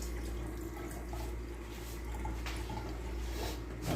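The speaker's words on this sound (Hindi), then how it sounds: "ये पानी में गिरा देता हूँ" Cabbage dropped into water while preparing a cabbage and onion dish, giving a steady watery wash and splashing that runs throughout, close and fairly loud.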